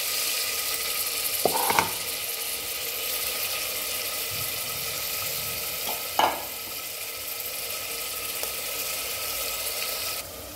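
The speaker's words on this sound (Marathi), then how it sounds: "मटण बी टाकून घेते लगेच." Mutton dropped into a pan of hot oil with onion and tomato sizzles steadily, with two sharp scraping clinks near the start and middle over the constant frying hiss, and no talk.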